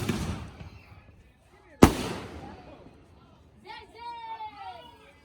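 A single loud firework bang cracks out from a neighbor's backyard, echoing and fading, after a quiet stretch; people chatter before and after it.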